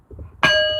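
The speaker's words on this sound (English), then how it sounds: "let me ring this bell and get us attuned space" A single struck bell rung during a spiritual ritual, one bright clear strike that rings on with a sustained shimmering tone after faint murmuring.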